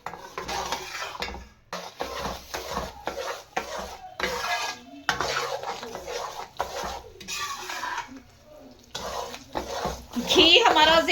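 A spoon scrapes and clanks through a panjiri mixture of ghee and sugar in a pan, giving bursts of stirring and metallic knocks, with a short sizzle near the end.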